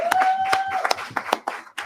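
An audience claps in sharp, uneven bursts, with a sustained tone, likely a whistle, sounding at the start and scattered individual claps trailing off.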